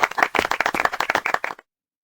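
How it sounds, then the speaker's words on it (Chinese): An audience at a charity auction bursts into brisk clapping for about a second and a half, a close, dense patter of hands that stops abruptly into silence. "下面我们掌声有请陈少"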